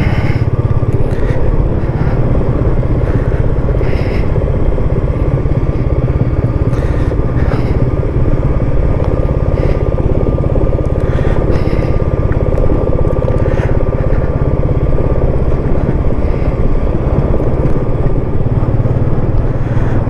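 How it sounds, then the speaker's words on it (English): A motorcycle engine rumbles loudly and steadily, with occasional sharp pops from the exhaust breaking through the drone. "A bit of popping off the old exhaust there. Pop, pop."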